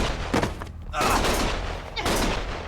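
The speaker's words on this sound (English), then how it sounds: "Stop shooting!" Gunfire in the Lost Judgment video game crackles as a dense volley of shots mixed with shouting voices, loud and continuous across the short moment.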